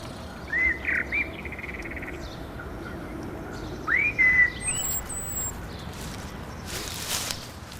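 A common blackbird gives short, clear whistled phrases over a constant outdoor hiss, with higher chirps from other birds and faint rustling nearby.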